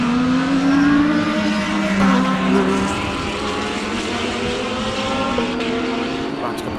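Race cars lapping during an hour-long endurance race at Dezzi Raceway, a continuous loud engine drone with shifting pitch as cars pass, steady throughout with no break.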